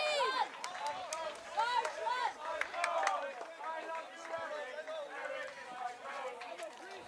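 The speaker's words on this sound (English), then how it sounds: "The crowd's chanting Eric Schmeidl's name." Lacrosse crowd at a Sweden versus Germany match chanting a player's name, a dense, rhythmic swell of many voices with cheering, steady and fairly loud throughout.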